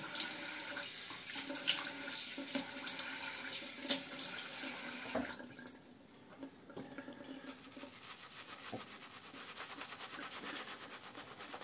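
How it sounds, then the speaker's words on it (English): Tap water runs steadily into a sink as a face is wetted before shaving, loud and close for about five seconds, then drops to a quieter trickle with soft rubbing and splashing. "I need to wet my face and I'll be right back."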